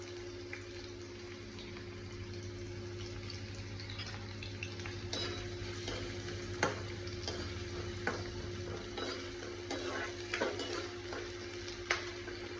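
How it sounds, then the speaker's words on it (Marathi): Chopped onion dropped into hot oil for a Saoji-style drumstick vegetable curry, with a continuous close sizzle and occasional stirring scrapes in the pan. "प्रथम तेलात एक कांदा टाकायचा आहे।"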